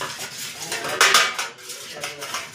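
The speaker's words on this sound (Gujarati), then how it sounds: "એમાં આપણે ઘી આખી ડીશમાં પાથરી દેવાનું છે." Scraping and clinking of a utensil spreading ghee across a small metal dish, close and fairly loud, with a few sharper metallic scrapes in the middle and no talking.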